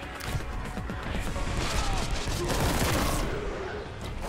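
A plasma gun fires in Warhammer 40,000: Boltgun amid an arena fight, a steady rapid crackle of shots and crashing impacts layered together, loud and continuous for several seconds, with no voices.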